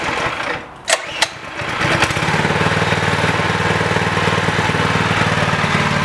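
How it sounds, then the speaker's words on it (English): A homemade go-kart's small engine, revved for burnouts, catches after a couple of sharp knocks and then runs loud and close with a steady, buzzing drone to the end. "I thought I'd try this for fun with some good old burnouts"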